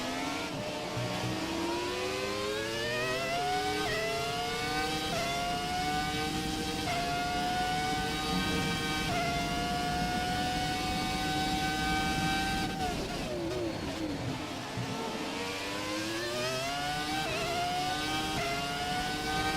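A Ferrari race car engine in a racing video game, loud and continuous, with repeated rising revs and gear shifts, then a dip and a fresh climb, close and steady throughout.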